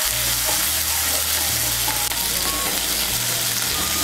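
Ginger and fennel paste fries in hot oil with a loud, steady sizzle, close up and continuous, with faint stirring underneath.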